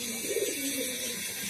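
A pigeon at a loft coos in a low, soft, rolling phrase close by, against a steady hiss of background noise.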